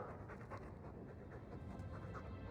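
A dog steadily panting in the fantasy video game Dragon Age II, a continuous breathy rasp heard up close with no talking.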